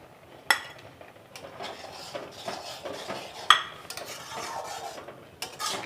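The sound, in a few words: stirring carrot halwa in a pot with nuts and raisins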